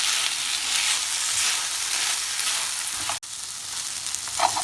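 Chicken with chilli sauce cooks in a pan, sizzling steadily and close up with a brief stir or knock near the end and no talk.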